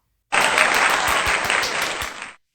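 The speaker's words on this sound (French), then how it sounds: "applaudissent vivement." Short, dense burst of applause that starts abruptly, holds loud and steady for about two seconds, then cuts off.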